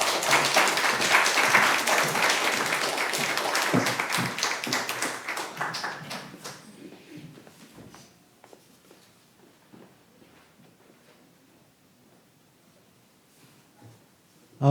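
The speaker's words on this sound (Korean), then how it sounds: "우리 전사님 나오실 때 박수로 환영해 주시기 바랍니다." Church congregation applauding to welcome a speaker at a memorial worship service, steady dense clapping for about six seconds that fades out into near silence.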